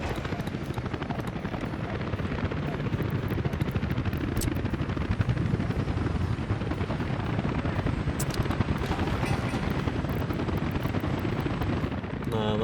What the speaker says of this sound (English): Nah, that's a lot of helicopters.